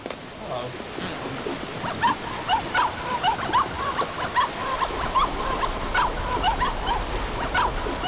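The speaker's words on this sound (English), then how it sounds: "How do I get this dog?" A dog in the adventure game The Cave yips and whimpers in short repeated bursts over a steady background wash, with a voice talking faintly underneath.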